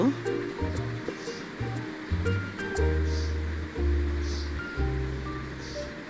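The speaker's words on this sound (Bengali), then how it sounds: "এখন নাড়াচাড়া দিয়ে ঢেঁড়সগুলো এর মধ্যে ঢেলে দেব" Okra tipped into a hot frying pan and stirred, giving a steady crackling sizzle and rustle that runs throughout, partly masked by louder background music.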